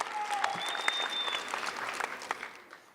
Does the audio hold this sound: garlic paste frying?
no